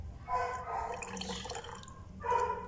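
Coca-Cola trickles and drips into a grey cement mix, several short splashing pours in bursts with a brief pause between them, fairly close and moderately quiet, with no speech.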